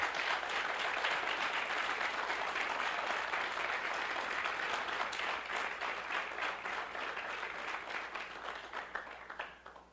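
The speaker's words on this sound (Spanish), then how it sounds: "Vamos a darle un aplauso a la persona del Espíritu Santo." A church congregation gives sustained applause in honor of the Holy Spirit, dense and loud crowd clapping that carries on steadily before thinning out and fading toward the end.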